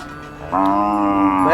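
A large Khillar bull at the Sangola cattle market gives a loud, close moo that starts abruptly partway through and holds steady to the end.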